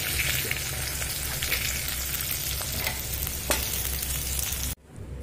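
Potato and brinjal pieces fry in oil over a medium flame, giving a steady, dense sizzle with occasional pops. The sizzle cuts off abruptly near the end.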